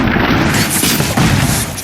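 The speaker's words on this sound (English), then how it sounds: "those UEDs shoot so beautifully" Enemy UED robots opening fire in Robocop Rogue City, a loud, dense wash of gunfire and booming impacts packed together in a short, continuous burst with no talk.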